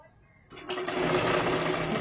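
A sewing machine stitches a katori blouse strip, its motor whirring in a steady, fast, continuous run after a brief quiet start, close and prominent.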